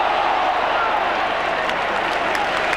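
Brisbane football crowd at a 1996 AFL match between Carlton and Brisbane applauding their players, a steady wash of distant stadium clapping and crowd noise with a commentator talking over it.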